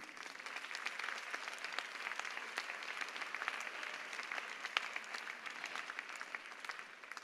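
Concert audience applauding a soloist at a children's orchestra and choir concert in Guadeloupe, dense steady clapping from many hands at a distance, continuous and even.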